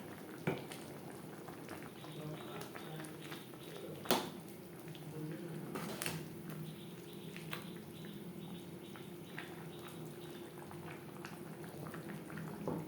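Soybean curry with garam masala and kasuri methi simmers and bubbles steadily in a pan on a gas flame, a soft continuous boil with occasional faint clinks, fairly quiet and without talk.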